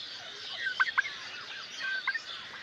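Turkeys gobble and three-month-old chickens call in short bursts over a steady farmyard hiss on a turkey farm, a few distinct calls clustered near the start and again later.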